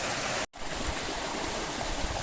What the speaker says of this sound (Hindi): ऊपर वाले पाइप से टंकी में पानी आ रहा है, टंकी का पानी नीचे से निकल रहा है।